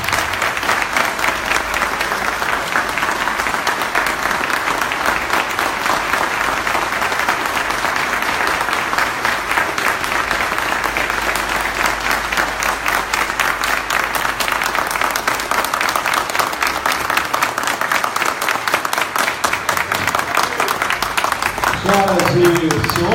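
A Brasília lecture audience gives a sustained, warm round of applause, dense steady clapping that carries on for over twenty seconds with some crowd murmur underneath.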